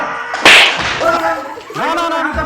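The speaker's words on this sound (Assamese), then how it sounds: "চৰটো বহুত বিষালে" A single sharp slap cracks out loudly near the start, followed by excited voices.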